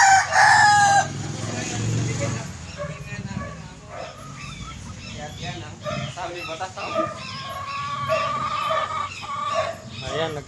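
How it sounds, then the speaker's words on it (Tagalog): Backyard coop chickens crow loudly at the start, then keep clucking and calling in scattered bursts, with a dog barking at times and a person talking over the flock. "Ayan, nagpainit ang ating mga manok."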